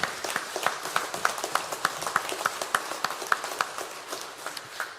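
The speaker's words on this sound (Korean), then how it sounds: "영광을 올려드리는 박수를 드리겠습니다" A church congregation at a Sunday worship service claps steadily in unison, sharp rhythmic beats repeating evenly through the room, loud and continuous with no talk over it.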